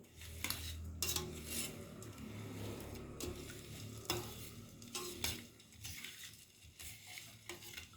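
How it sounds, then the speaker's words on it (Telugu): A ladle scraping and clinking against a pot while cow's milk and jaggery are stirred together, repeated rhythmic strokes with faint sizzling, close and fairly quiet, no voices. "ఇలా కలిపిన తర్వాత బెల్లం కరిగిపోయే వరకు ఇలానే తిప్పుకుంటూ ఉండాలి"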